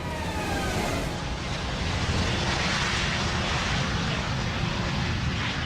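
A DC-10 airliner in flight with its number 2 engine shut down, a loud continuous roar of engine and rushing air filling the cabin, steady and unbroken throughout.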